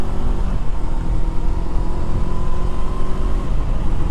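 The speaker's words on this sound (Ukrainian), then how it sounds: "Гадаю, вам чути, як мотор працює." A Honda CB400X motorcycle engine idles steadily up close, a continuous low rumble holding an even pitch with no voices over it.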